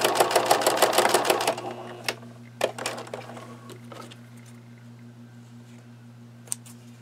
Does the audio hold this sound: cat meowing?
no